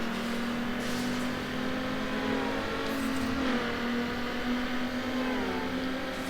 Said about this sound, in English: I touched the nitro button instead of the brake